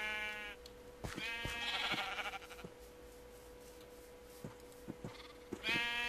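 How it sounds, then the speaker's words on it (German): Sheep in the Minecraft video game bleat twice, once at the start and again at the end, with scattered soft clicks from gameplay in between and no talking. "Dann machen wir mal Schafe."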